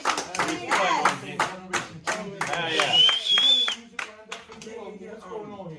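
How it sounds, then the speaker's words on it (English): A round of applause for a guest on a radio show, heard as a burst of hand claps mixed with overlapping cheering and talk, loud and close, fading out toward the end. "let's give a round of applause for my man"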